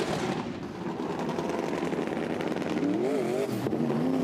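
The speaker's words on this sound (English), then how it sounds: "you listen to the engine though" Drift car engine easing off throttle on a wet track during an FIA Motorsport Games drifting final, a loud continuous rasping roar with a rising, wavering whine near the end, close and alone.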